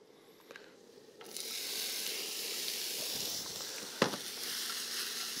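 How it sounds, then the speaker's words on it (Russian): Vegetables hitting hot vegetable oil in a frying pan on a stove for borscht, a quiet start then a sudden steady sizzle and hiss, with a brief clatter partway through. "И сейчас эти три овоща одновременно пойдут в сковородку для пассирования."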